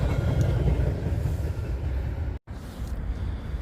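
A train rumbles past nearby with a continuous heavy roar and low rolling noise, steady for most of the stretch before a brief dropout and a return of the rumble.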